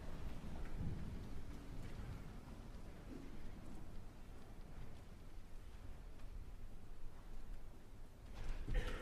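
Stage thunder effect in a performance of Mozart's opera The Magic Flute, a low rolling rumble that swells and fades across the stretch, with a faint rain-like hiss and no speech.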